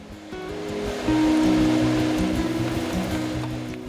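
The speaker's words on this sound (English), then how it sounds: "beat up an egg with some salt and scramble it quickly in some oil." An egg beaten with salt scrambles fast in hot oil in a pan, a loud, continuous, close sizzling rush that swells after the first second, with a tonal hum underneath.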